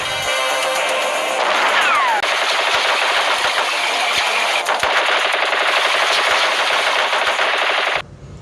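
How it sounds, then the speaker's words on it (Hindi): Automatic machine guns fire in sustained rapid bursts in a wartime battle, the loud, dense rattle running continuously for about eight seconds before cutting off abruptly. "स्वचालित मशीन गनों से गोलियां दागने लगे"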